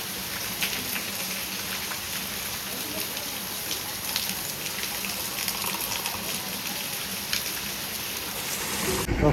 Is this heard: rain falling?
yes